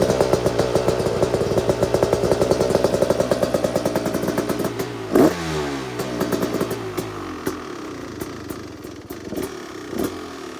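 A 2026 Beta 350 RX two-stroke dirt bike engine blips through light revs near the mic, rising and falling in pitch with a sharp crackling throttle burst midway before settling back toward a buzzing idle.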